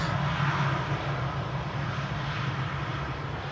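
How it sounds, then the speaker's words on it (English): An Aegean Airlines passenger plane on arrival at Amsterdam Schiphol Airport from Athens gives a loud, steady engine roar. It holds at nearly constant strength throughout, with a low rumble beneath. "we have Aegean flight 3624, arriving from Athens"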